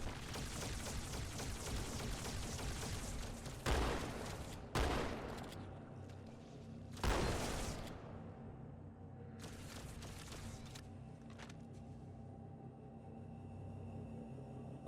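Gunfire in the Halo 2 video game comes in a few separate bursts and single heavy shots, spaced several seconds apart over a low, steady background hum. Everything is fairly quiet.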